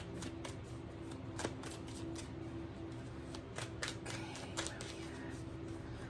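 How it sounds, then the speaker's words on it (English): Rapid riffling and soft slapping of tarot cards being shuffled, in quick bursts over a steady low background hum. "One more shuffle here."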